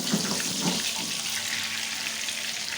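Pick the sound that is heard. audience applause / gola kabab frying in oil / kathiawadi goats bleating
gola kabab frying in oil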